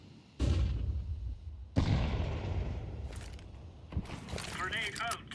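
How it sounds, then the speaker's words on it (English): Counter-Strike 2 grenades go off: two loud booming blasts about a second apart, then a rumbling tail overlaid with clipped game radio callouts and a burst of pops near the end. "Deploying flashbang."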